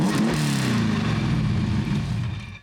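A lightweight car of about 1000 kg with a Cosworth engine and light flywheel revs rough and busy close by, a rasping note that wavers then fades away over a couple of seconds, with no talking.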